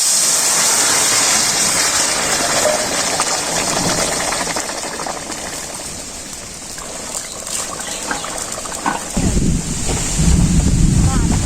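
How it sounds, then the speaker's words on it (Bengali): Wind gusts across the microphone outdoors near a village market, a loud rushing roar that swells and eases before a heavier buffeting burst near the end. "বাতাসও চালাইছে"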